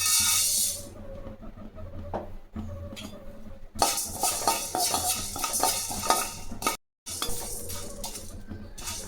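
Coriander seeds are dry-roasted in a pan and stirred with a metal utensil, giving busy scraping, rattling and clinking with a faint crackle, close and irregular, broken by brief pauses and with no talking.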